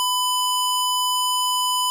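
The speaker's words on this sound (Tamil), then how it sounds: "பஸரோட சவுண்ட் வந்து உங்களுக்கு நல்லா கேட்கும் அப்படின்னு நெனைக்கிறேன்." Buzzer in an Arduino lie detector project running in the Wokwi simulator, giving one steady, unbroken electronic tone, clean and continuous with no other sounds.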